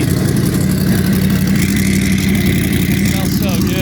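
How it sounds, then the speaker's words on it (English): Close, loud engine roar from a 1200hp twin-turbo V8 Corvette Z06 time attack race car, with a low throbbing idle and rising revs, running without a break. "Usually turbo cars are pretty quiet. This is not quiet."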